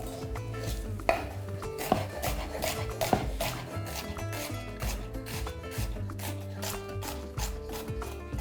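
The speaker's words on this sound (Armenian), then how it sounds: "Երկու փոքր գլուխ սող, մանր կտրատում և լցնում ենք ամանի մեջ" Two small onions being finely chopped on a board, a fast run of knife taps mixed with clattering utensils and scraping sounds, close and busy throughout.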